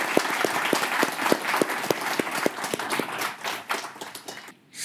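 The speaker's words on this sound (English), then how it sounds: "I would invite you to a round of applause to our panelists" Audience at a product launch event at the New York Stock Exchange applauds panelists, a steady wash of many hands clapping with sharper individual claps standing out, fairly loud and continuous before tapering off at the end.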